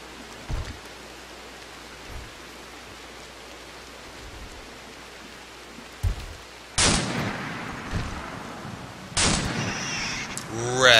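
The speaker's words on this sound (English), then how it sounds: "Oh, it's a fucking heavy sniper rifle, that's why." Heavy sniper rifle fire in a video game: after a quiet stretch of faint low thumps, two loud sharp broadband blasts land several seconds apart, each trailing into noisy rumble, with a final burst at the end.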